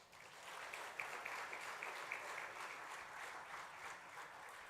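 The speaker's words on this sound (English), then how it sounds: "Please give him a loud round of applause." A lecture audience gives sustained, fairly quiet applause to welcome the speaker at a memorial lecture, a continuous wash of many hands clapping with a slight swell near the start and a gentle fade toward the end.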